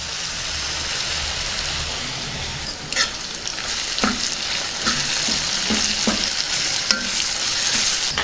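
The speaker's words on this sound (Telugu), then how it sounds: "వీటిని కాసేపు మగ్గనిద్దాం." Vegetables cooking in a pan for vegetable rice: a steady, dense sizzle of frying fills the scene, broken by light scrapes and taps of stirring, with no talking.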